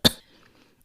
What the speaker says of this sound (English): A dry, non-productive, and persistent cough is one of the most well-known side effects of ACE inhibitor therapy.